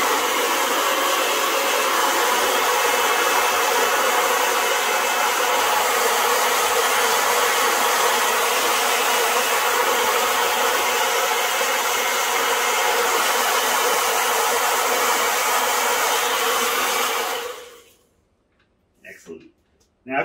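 A heat gun blows a steady, loud hiss while warming vinyl wrap on an e-scooter, running nonstop before cutting off abruptly near the end.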